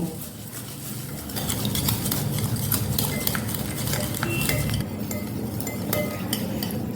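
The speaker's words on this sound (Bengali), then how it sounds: "একটা হ্যান্ড উইচের সাহায্যে ডিম আর চিনিটাকে ভালো করে ফেটিয়ে নিতে হবে।" A hand whisk beats eggs and sugar in a bowl for a cake, a steady rapid clinking and scraping of wire against the bowl, close and continuous throughout with no talking.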